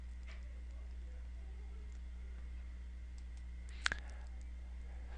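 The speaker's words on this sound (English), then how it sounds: "we're going to click Edit." A single sharp computer mouse click sounds near the end, close and brief, over a faint steady electrical hum with no other activity.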